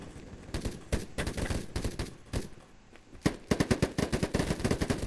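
Rapid bursts of automatic gunfire in a first-person shooter video game, loud and close, coming in repeated volleys with brief pauses between them and a dense final flurry of shots.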